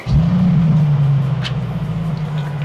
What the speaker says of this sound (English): Listening to that ignition sound every time is just, it's music to my ears.